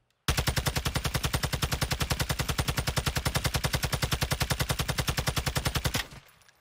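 Fully automatic gunfire in Call of Duty MW2, a rapid, evenly spaced burst of about six seconds that stops abruptly, loud and close with nothing else heard.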